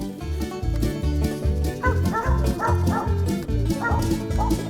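A hunting dog bays and yips repeatedly at squirrels in a tree in a Texas state park. The barks are loud and close, in steady bursts over a droning low background.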